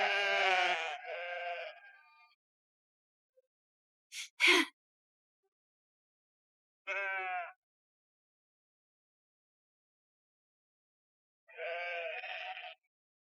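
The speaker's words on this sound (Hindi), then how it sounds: "वो भेड़ों की आवाज थी।" Sheep being fed bleat in four separate wavering calls spread across the stretch, fairly close and clear against silence, with a brief sharp knock between the second and third.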